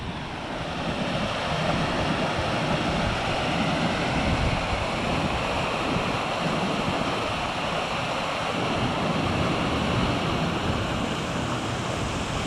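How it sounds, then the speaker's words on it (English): A linn, a small waterfall in the Cheviot Hills, gives a steady, loud rushing roar of falling water with wind buffeting the microphone and no voices. "This must be a linn of some sort"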